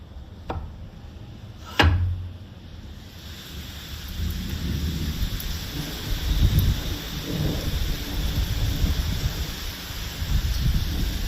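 Steady rain at Wanaparthy, Telangana, falling in a continuous wash, with a sharp thunder crack near the start and low rumbling rolling underneath.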